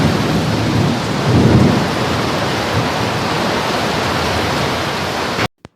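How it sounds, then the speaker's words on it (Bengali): Heavy midday rain pours down in a dense, loud, continuous hiss with a low thunder rumble early on, then cuts off abruptly. "এই সময় বৃষ্টিটা কি জোরে পড়ছে দেখুন।"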